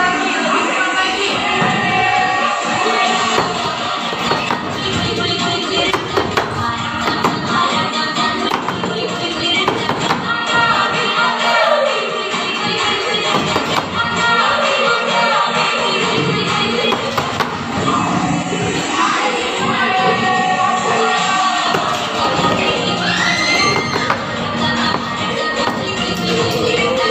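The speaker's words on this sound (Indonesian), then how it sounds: "Ya, tepuk tangan." A group claps hands steadily and quickly, a dense run of taps with crowd shuffling that carries on loud and close throughout.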